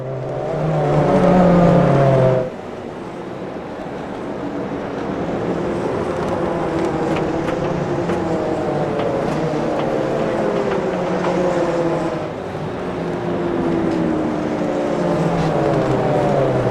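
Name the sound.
BMW race car engine in a racing video game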